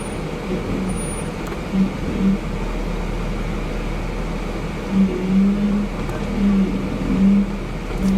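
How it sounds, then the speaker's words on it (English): Jeep crawling off-road in forward low first gear on Pinyon Mountain Trail in California, a steady low engine drone with a few faint swells, heard from inside the vehicle. "Forward low, first gear. Descent button."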